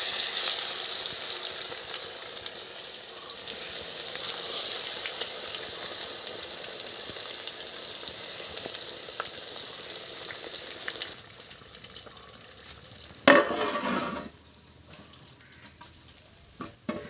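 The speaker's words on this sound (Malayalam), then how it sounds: "അതിനകത്തോട്ട് നമുക്ക് നമ്മുടെ മീൻ ഇട്ട് കൊടുക്കാം." Fish frying in hot oil with curry leaves, Kerala style, giving a loud, steady sizzle that drops away partway through, followed by a brief clatter and quieter crackling near the end.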